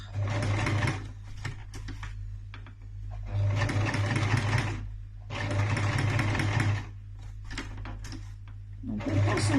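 A sewing machine topstitches along the edge of a small fabric makeup remover wipe, running in several short, rapid whirring bursts with brief pauses between them, close up.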